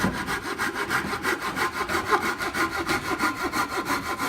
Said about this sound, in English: now Steve is using a Japanese flex saw. He's sawing right up to the handle there